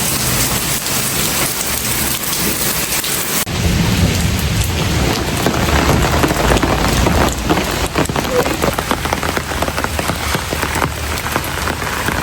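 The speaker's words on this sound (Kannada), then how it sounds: "ಇದು ಮಳೆ" Heavy rain pours down steadily near Sakleshpur, a loud continuous hiss of drops on surfaces with low thunder rolling beneath, the downpour thickening after a few seconds and carrying on to the end.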